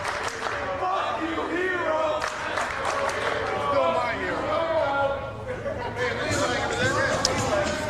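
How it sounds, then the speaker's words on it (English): A wrestling crowd at an IWA independent show in Midlothian cheers, chatters and applauds as a champion is greeted, a dense continuous roar of voices and clapping that swells and dips throughout. "And greeted kindly here by the Midlothian crowd."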